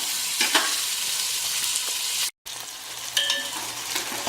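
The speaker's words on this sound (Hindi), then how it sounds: "अब प्याज को जो है हम थोड़ा सुर्ख कर लेंगे गोल्डन ब्राउन" Onions frying to golden brown in a pan for mutton bhuna, a steady close sizzle with a few spoon scrapes and knocks, cut by a brief silent gap midway, no voices.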